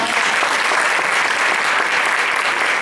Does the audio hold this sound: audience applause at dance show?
yes